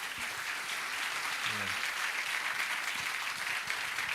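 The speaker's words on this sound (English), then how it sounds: "can I have a round of applause for the gentleman here?" Audience applause at a leadership conference, a steady, dense wash of clapping filling the room throughout, with a brief spoken word and a faint low voice underneath.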